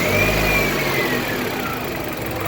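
Car engine running at idle during an air-conditioning compressor test, a loud close steady hum with a slight rise at the start, no talk.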